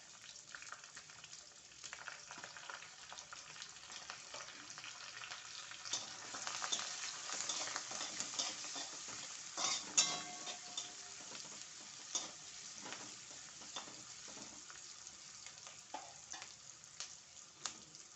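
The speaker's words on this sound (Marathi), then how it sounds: "कांदा छान खरपूस होऊन द्यायचा आहे" Finely chopped onion, with curry leaves and garlic cloves, fries in a pan until crisp for moth bean usal, a soft, steady sizzle with occasional light spoon taps and scrapes throughout, no voices.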